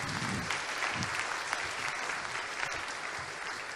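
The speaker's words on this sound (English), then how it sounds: "let's give these guys a round of applause." A round of applause from an audience at a talk on game development tools, faint and distant, a steady wash of many hands clapping.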